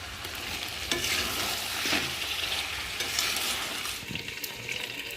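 Potatoes, chopped tomato and slit green chillies are stir-fried for chicken curry, a constant sizzle broken by scraping stirs about once a second, close and fairly soft.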